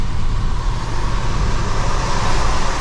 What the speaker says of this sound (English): Hear all that water kicking up?